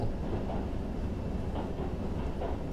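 A train rolls past in an anime scene, a steady low rumble with faint rhythmic clatter, fairly close and unbroken throughout.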